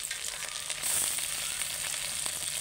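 Chopped tomato hitting lightly browned fried onions in a hot pan, a steady close sizzle that swells louder partway through with faint stirring scrapes, no talking.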